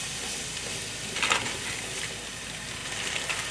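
Ginger, garlic and mint stirring in hot vegetable oil, a steady soft sizzle and hiss with a brief louder scrape of stirring partway through.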